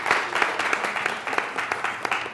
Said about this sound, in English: Please give NAWBO a round of applause.